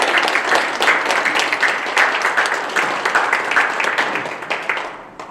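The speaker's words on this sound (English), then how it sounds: "Please give a round of applause." An audience at a funeral home history talk claps in a sustained round of applause, dense and steady, tapering off near the end.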